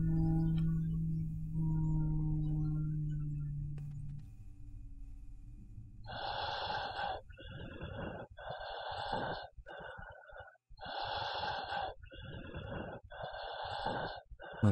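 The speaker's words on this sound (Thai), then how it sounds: "เป็นเสียงหายใจนะแต่เป็นเสียงหายใจที่แบบเหมือนเอาไมค์ร้อยหนึ่งอัดอะเสียงแตกมาก" Heavily distorted, clipped breathing in the horror game Tsugunohi: after a low droning hum, about six loud, harsh breaths in and out follow in a slow, uneven rhythm, close and crackling.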